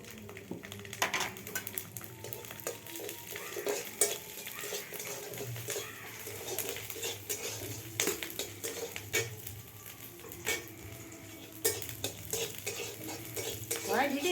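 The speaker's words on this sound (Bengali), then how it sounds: "এবার রসুনটা বেটে নিয়ে ইয়ে ভেজে নিচ্ছি" Ground garlic paste frying in a pan for a pointed gourd paste recipe, with frequent sharp spatula scrapes and clinks over a low sizzle, close and fairly busy throughout.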